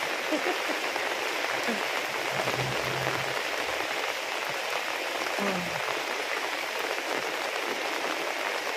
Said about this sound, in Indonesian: Hujan guys tuh.